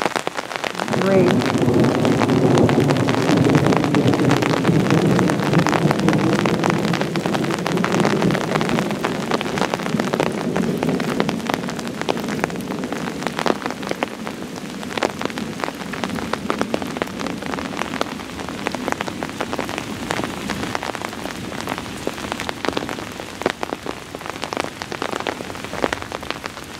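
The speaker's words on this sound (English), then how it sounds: "Rain." Heavy rain pouring at an Arkansas family home with low thunder rumbling through the first seconds, then a steady dense patter of drops continuing loud and close.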